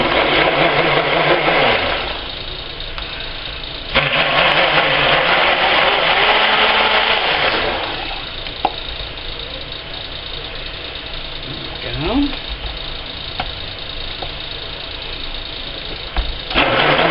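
A blender whizzes clays into a pumpkin soap mixture, loud motor bursts that start, run and stop in a few separate pulses, with quieter pauses between them.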